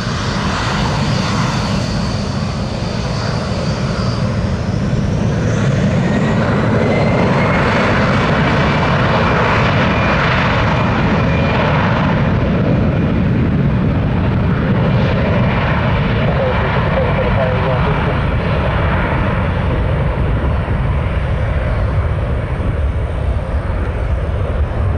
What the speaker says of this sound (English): Slow takeoff